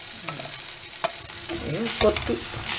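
Egg bhurji stirred and scrambled in a hot pan, with close scraping spatula strokes and a steady sizzle of frying egg running underneath.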